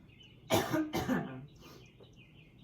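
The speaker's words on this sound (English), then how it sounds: "Sorry, I had to cough a little bit there." Two harsh coughs in quick succession, close and fairly loud, followed by a faint throat sound, during a yoga class.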